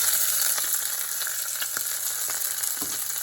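Peppers and chopped fresh garlic fry in hot olive oil in a pot, giving a steady, even sizzle with faint crackles and a few soft stirring clicks throughout.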